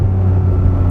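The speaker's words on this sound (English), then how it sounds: "Listen to this downshift, 4th to 3rd." Ferrari 550 Maranello V12 heard from inside the cabin during a fourth-to-third downshift, a loud, steady low engine hum held for under a second.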